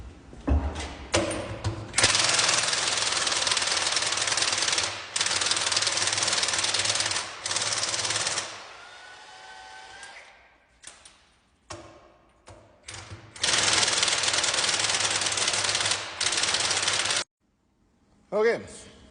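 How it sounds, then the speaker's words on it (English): A Milwaukee M18 cordless impact tool hammers wheel lug nuts off a Hagie STS 20 sprayer in loud, rapid rattling bursts of several seconds each, separated by short pauses as it moves between nuts. "Let's take these lug nuts off."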